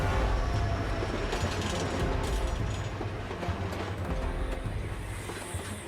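Kitchener's desert train running across open desert, a continuous loud rumble of wheels and rail clatter with steady mechanical rhythm throughout, no voices.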